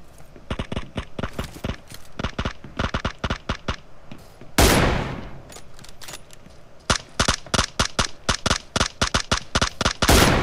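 Rapid bursts of AKM rifle fire in PUBG Mobile, loud and close, with clusters of sharp shots, a brief broadband blast midway, then another dense volley toward the end.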